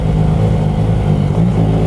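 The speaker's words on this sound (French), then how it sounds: "Ah, c'est une moto plein de fou" A new-version motorcycle engine revs loudly and close, a deep sustained growl with rising and falling pitch throughout.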